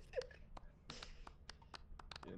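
A character claps in the video game Lethal Company, giving a string of faint, sharp, irregular claps that speed up toward the end, with quiet talk underneath.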